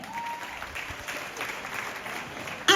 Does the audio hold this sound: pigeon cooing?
no